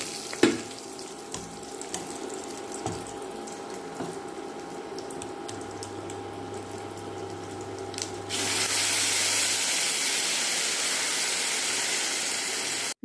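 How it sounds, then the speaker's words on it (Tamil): Onion and curry leaves crackle in hot sesame oil as a tempering for bitter gourd tamarind gravy. A soft, steady sizzle swells abruptly into a louder, even hiss partway through, with no voices. "அதுக்கப்புறம் வெங்காயம், கருவேப்பிலை போட்டு தாளிச்சிடலாம்."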